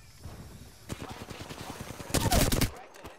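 Rapid bursts of gunfire in Apex Legends rattle in quick succession, building to a dense, loud volley near the end before cutting off.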